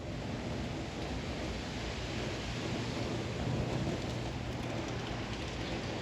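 Steady rain falls outdoors at Gumbo Limbo Nature Center in Boca Raton, Florida, a dense even hiss without pauses, close and continuous with no voices.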